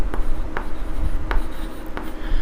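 Handwriting on paper while working a class 10 maths problem, a close, fairly loud scratching of pen strokes with a few sharp taps, and no talk.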